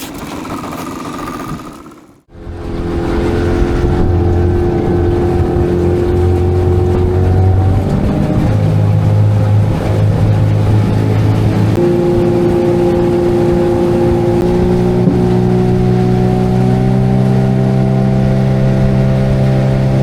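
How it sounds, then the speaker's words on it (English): A petrol outboard motor on a small fishing boat starts after a brief quiet moment, then runs loud and close, holding a steady droning hum with slight shifts in pitch and no speech. "I'll troll with this petrol motor for just along here"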